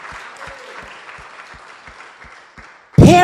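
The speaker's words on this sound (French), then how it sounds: "Come on, let's give the Lord a clap" Church congregation clapping in a steady beat of roughly two claps per second with crowd murmur beneath, cut off by a sudden loud burst of voice or music at the end.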